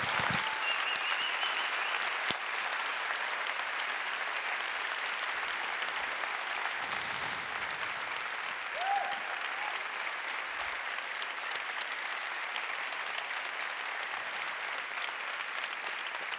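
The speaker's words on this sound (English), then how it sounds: "Huge round of applause" Sustained applause from a large audience at a summit plenary session in Bangkok, steady clapping throughout with no talking.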